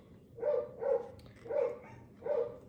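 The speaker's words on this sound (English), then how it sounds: "Our dogs are going insane because there's other dogs outside." Pet dogs indoors bark at other dogs outside, giving four distinct barks in a steady rhythm, moderately close and fairly quiet.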